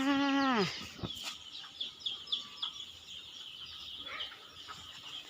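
Farm chickens, young birds and laying hens, give a drawn-out descending call, then a string of short, scattered clucks at close range against quiet farmyard background.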